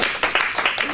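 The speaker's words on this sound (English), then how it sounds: "Let's give them a round of applause also." A conference audience claps together, a dense, steady burst of applause filling the whole second at fairly close range with no talking over it.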